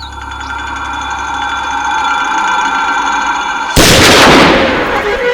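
A single loud, sharp gunshot rings out in a forest hunting scene from a Hindi-dubbed film, bursting abruptly after a steady low mechanical hum.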